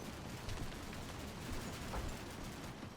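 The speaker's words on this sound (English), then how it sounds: "That building, the top floor of that building at least, is still being 50 cal'd. You just about hear it in the background." Sustained .50 cal machine gun fire raking the top floor of a building in the Combat Mission wargame, heard as a dense, steady rumble of distant bursts with no clear pauses.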